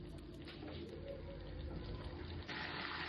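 Water poured into a pan of Odia mustard curry with drumstick, taro, potato and brinjal, a steady close splashing and bubbling rush that runs evenly throughout and swells slightly near the end.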